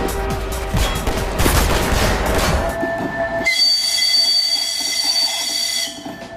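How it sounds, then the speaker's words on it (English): Half-Life game train sequence with a rumbling, clattering DR-1 rail car and squealing wheels, then a sustained, loud multi-tone train horn that holds steady for several seconds. "In-game, the DR-1 shares the same horn as the Razor train"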